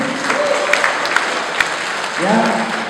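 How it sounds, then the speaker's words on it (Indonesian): Audience applause at the 25th anniversary celebration of PSMTI NTB, a steady wash of clapping lasting about three seconds with a voice and a few cries rising over it. "Tepuk tangan dulu dong untuk PSMPI."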